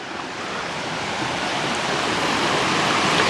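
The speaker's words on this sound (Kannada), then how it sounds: "ನಮ್ಮೊಟ್ಟಿಗೆ ನದಿನೂ ಬರ್ತಾ ಇದೆ." Steady rushing of a river beside a forest trekking trail to Dudhsagar Waterfall, a continuous broad roar of flowing water that grows slightly louder, close and with no talk.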